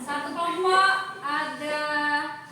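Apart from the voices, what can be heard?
No everyday noises stand out.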